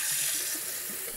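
Water from a sink tap sprayer hisses steadily as a coffee machine's water tank is rinsed, a close, even spray with no talk.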